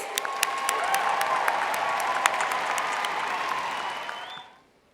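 Sustained applause with some cheering from a convention audience at a state student organization conference business session, steady and dense for over four seconds before fading out.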